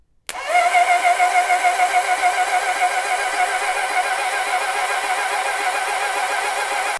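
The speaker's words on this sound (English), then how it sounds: "all I'm gonna do is touch this guy to the battery and the starter should spin and we should get oil pressure" A Honda CB750 motorcycle's starter motor spinning the engine while oil pressure builds, a loud, steady mechanical whirring drone that begins abruptly and holds evenly for several seconds before cutting off, with no voices.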